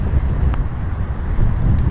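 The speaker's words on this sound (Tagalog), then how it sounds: "Mahangin." Strong wind buffets a fishing boat at sea off the Philippines during traditional net fishing, a loud, constant low roar and rumble across the microphone.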